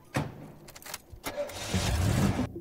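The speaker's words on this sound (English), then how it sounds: "now his car starts perfectly fine." A car engine cranks and catches, settling into a low idle after a few short bursts of clicking and rattling.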